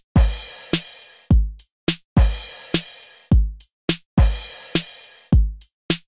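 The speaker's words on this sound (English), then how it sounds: "7/8, on the other hand, sounds like this." A drum beat in 7/8 time loops three times: booming kicks and crisp snare hits fall in an uneven, lopsided pattern with quick hi-hat taps between them, close and clear with no voices.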